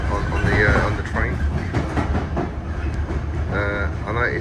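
A London Underground Piccadilly line train running above ground near Southgate, a continuous loud rumble with rhythmic wheel clatter and brief squeals, heard from on board with some voices in the background.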